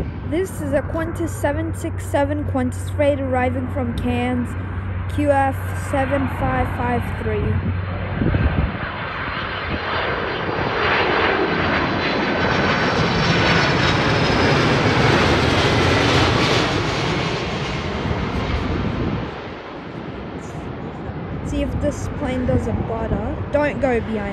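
A United airliner landing at Sydney Airport, with a loud, swelling jet roar that builds to a peak as it passes close by, then fades, while people talk over the start and the end.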